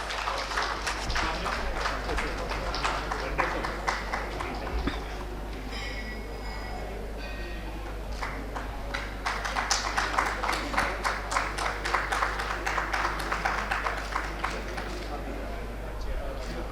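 Audience applause at an award ceremony, sustained rapid clapping from a crowd with a steady low hum beneath, swelling louder in the second half.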